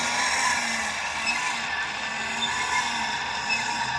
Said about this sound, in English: You'll notice it does have a squeak.